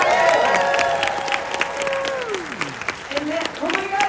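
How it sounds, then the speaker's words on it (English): Audience applause fills the room at a film Q&A, a steady wash of clapping and some cheering, with gliding tones and a voice audible over the crowd. "I want you to put your hands together."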